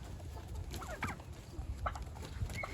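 A fowl on a homestead clucks while being held and handled, giving a few low, soft, close clucks and short squawks over rustling and handling noise, with no voices heard.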